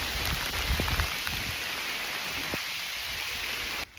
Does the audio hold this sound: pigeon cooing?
no